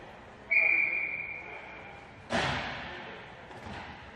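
A referee's whistle sounds once in a short shrill blast at a roller hockey game, followed by a thud and rink echo in an indoor arena.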